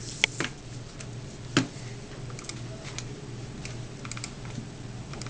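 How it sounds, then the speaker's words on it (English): Keys on a computer keyboard are tapped in short, quiet bursts with a few sharper clicks, close by and without voices. "So I'm going to type that out."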